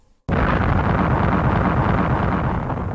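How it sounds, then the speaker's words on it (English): A distant explosion sound effect in an audiobook story, a sudden heavy roaring rumble that starts abruptly and sustains as a dense, loud low boom for a few seconds. "There was another terrible explosion in the distance."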